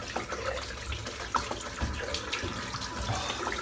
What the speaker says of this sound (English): I'm just going to rinse my brush out, which is caked full of lather still